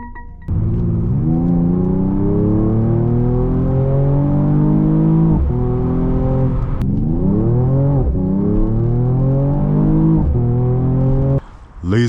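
A 2021 Mercedes-Benz E53 AMG coupe's exhaust booms up close on a night drive, its engine note climbing repeatedly as it pulls through the gears, with brief dips between shifts and no talking.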